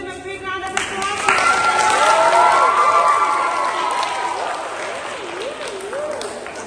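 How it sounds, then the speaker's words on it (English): An audience gives students a big round of applause, clapping with some cheering. The clapping swells and stays steady, while a voice and warbling tones sound over it. "Please give them a big round of applause."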